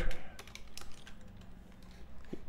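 Computer keyboard typing while entering a software test: a close, quick irregular run of clicky keystrokes with brief pauses between bursts.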